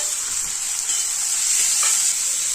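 Onion and tomato sauté in a pan of hot oil tempering for upma, giving a steady close sizzle with faint stirring scrapes throughout and no talking.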